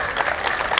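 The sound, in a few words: audience applause at an architecture conference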